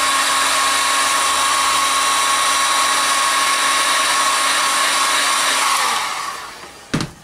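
A hair dryer or heat gun blows steadily and loudly while warming a twist-lock electrolytic capacitor can, its whine holding level for about six seconds before it switches off and spins down, with a brief knock near the end.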